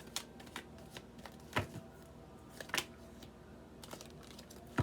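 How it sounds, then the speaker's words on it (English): A deck of tarot cards being shuffled close by, a run of quiet riffling flicks and soft crisp snaps at an uneven rhythm, with no talking. "So please be patient while I'm shuffling."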